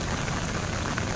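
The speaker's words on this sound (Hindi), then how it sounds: "इस सावन के महीने में जब लगातार मूसलाधार बारिश हो रही है" Heavy monsoon rain pours steadily during the Sawan season in Dhar, a dense, even hiss of downpour that runs unbroken through the moment with no voices.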